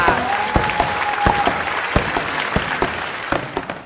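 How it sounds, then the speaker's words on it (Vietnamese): An audience claps at a TV comedy show in a steady burst of applause with individual sharp claps standing out, tapering slightly toward the end. "vỗ tay quý vị à"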